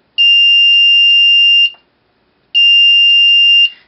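A continuity tester circuit gives two clear, high, steady electronic beeps when its leads are shorted together, each about one and a half seconds long, separated by a short silence.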